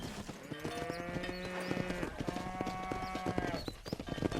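Cattle hooves clopping steadily while cows are herded in Red Dead Redemption, a rhythmic clip-clop close by under a sustained musical score.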